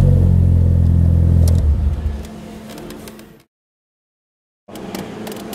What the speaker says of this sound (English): you just simply press and hold the button until engine starts